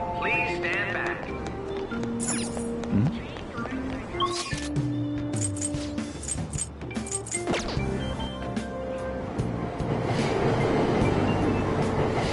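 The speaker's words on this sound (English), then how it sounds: "Platform number 2, service to Asakusa is departing soon." A subway train pulls away from a station platform in the video game Persona 5 Royal, rumbling and whirring with tonal motor whines and clanks while recorded platform announcements play over it.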